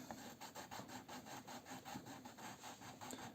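A rubber eraser rubs out part of a pencil sketch for a painting in quick, even back-and-forth strokes. The scrubbing is very quiet and close, with no talk.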